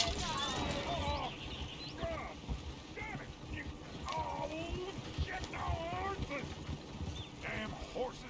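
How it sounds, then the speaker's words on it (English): Horses in the video game Red Dead Redemption 2 clop their hooves and whinny nearby, with a busy town or camp scene behind them and voices talking throughout. "Damn horses."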